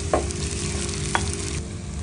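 Marinated mutton frying in a pan with onions for Goan vindaloo, a steady close sizzle with two brief stirring scrapes and no talk.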